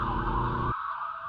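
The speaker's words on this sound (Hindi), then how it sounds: "उसकी टैक्सी के पास से एक एम्बुलेंस आगे बढ़ी।" An ambulance siren wails loudly as it moves past a taxi in traffic, with a low road rumble under the steady tone that drops out partway through.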